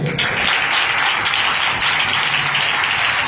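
A church congregation claps and applauds for a brother, a dense, steady wash of hands sustained loudly through the whole stretch without talk.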